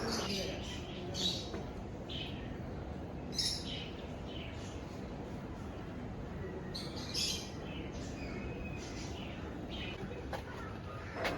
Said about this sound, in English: And I can clearly hear various sounds of birds, wobbling of various birds here.